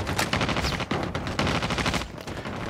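Bursts of automatic rifle fire in the mobile shooter COD Mobile, rapid close shots in several quick strings separated by brief pauses.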